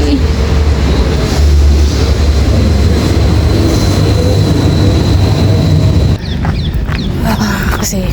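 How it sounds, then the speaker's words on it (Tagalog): A train rumbles in to a station in Kifisia, Greece, a loud continuous roar and rattle close by for several seconds before it eases and settles, with faint chatter in the background. "Padating na yung train. Train's coming up."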